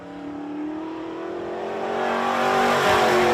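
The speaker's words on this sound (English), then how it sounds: "This is Mike Clark, driving the number 92 car." Modified race car, number 92, lapping a speedway, its engine a steady loud drone that builds and rises in pitch as it approaches, with tire noise swelling near the end.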